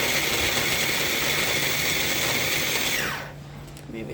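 A small food processor chops food for a simple pantry dinner, a loud steady whirring motor that runs continuously and then winds down and stops near the end.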